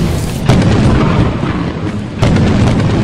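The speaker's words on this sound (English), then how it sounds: "Watch out lightning!" Lightning strikes in the video game Lethal Company with heavy, rumbling thunder, two sharp booming onsets over a loud, sustained low roar.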